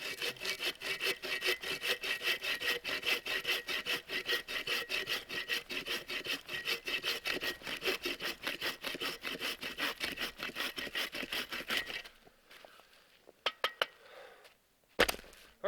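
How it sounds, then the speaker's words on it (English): Hand saw strokes rasping steadily through wooden logs at a winter campsite in a fast, even rhythm for about twelve seconds, then stopping, followed by a few scattered knocks and clatters. "I'm gonna finish sawing all this up."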